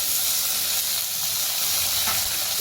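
Diced potatoes and onion frying in a hot pan make a loud, steady, unbroken sizzle and hiss with no other sounds.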